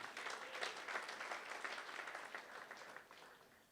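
Applause at a university sports gala awards ceremony as an honoree is called up, a crowd's dense clapping swelling early and then gradually tapering off, heard fairly faintly with no speech over it.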